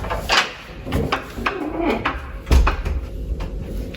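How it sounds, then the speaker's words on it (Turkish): A door being shut inside a rural winter holiday house, with a few wooden knocks and clunks, one firmer thud near the middle, and quiet room noise between. "Şöyle kapıyı kapatayım tabii."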